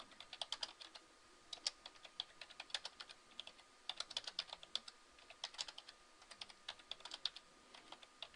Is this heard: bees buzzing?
no